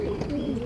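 A buchona pigeon coos steadily inside a pigeon loft, a low, throaty purring call that runs continuously and sits close by, with no talk over it.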